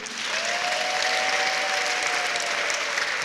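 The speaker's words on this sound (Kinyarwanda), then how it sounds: "Mwamukomera amashyi Yesu." A church congregation claps together in praise of Jesus, producing dense, sustained applause at an even level, with a faint sustained tone sounding briefly underneath.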